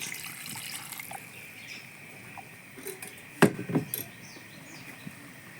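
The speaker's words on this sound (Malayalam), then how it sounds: "ഇതിൽ നമ്മൾ അധികം വെള്ളം വേണ്ട കുറച്ച് വെള്ളം" A small amount of water is poured into a cooking pot of chena erissery, a yam and coconut curry, as a brief soft trickle and splash around the middle of an otherwise quiet kitchen.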